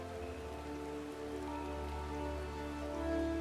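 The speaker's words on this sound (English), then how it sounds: "It's definitely blocking the rain" A gentle, steady rain patters in the Final Fantasy XIV VR game world, a faint continuous hiss layered under sustained musical tones that swell slightly toward the end.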